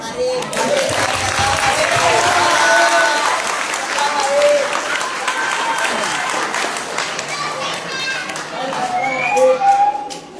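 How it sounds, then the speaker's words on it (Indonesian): Sustained audience applause at an Islamic study session on Hajj and Umrah, a dense crowd clapping throughout with scattered voices and a brief whistle mixed in. "Oke, tepuk tangan dulu."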